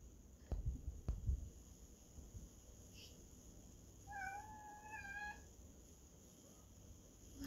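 Cat meowing faintly in a room, one drawn-out wavering meow in the middle over a low steady hum, preceded by a few soft knocks, with no talk.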